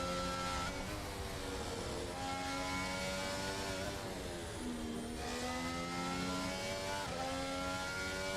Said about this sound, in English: Let's listen to his throttle input through the final two.